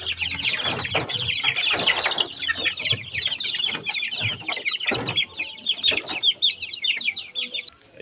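Chicks and chickens cluck and peep continuously in a coop, a busy overlapping chorus of close, fairly loud bird calls with occasional low thumps and a faint voice.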